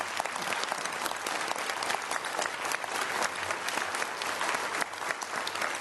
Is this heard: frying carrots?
no